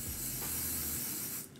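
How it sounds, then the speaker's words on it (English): Lace hairspray spritzes onto the back of a hand in one steady, close hiss lasting well over a second before it cuts off abruptly. "I'm going to spray"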